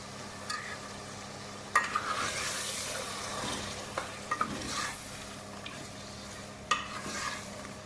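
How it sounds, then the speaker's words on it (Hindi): Tender mutton with salt, turmeric and garam masala being sautéed in a pan, a soft continuous sizzle broken by occasional scrapes and knocks of a stirring spoon, moderately quiet with no talk. "इसे अच्छी तरह भूनना है। गोश्त तो गला हुआ है, अच्छी तरह भूनेंगे।"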